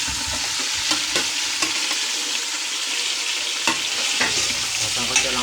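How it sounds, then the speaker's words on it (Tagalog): Chicken sautéing in a pan for sopas in a kitchen, with steady close sizzling and frying under repeated sharp stirring scrapes and clanks spaced throughout. "Sasangkot ko lang po yung chicken."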